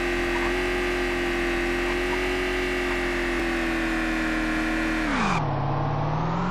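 A vehicle engine drones steadily in the survival game Vein, a sustained loud hum with a rising whine, then the pitch drops sharply near the end as the engine slows.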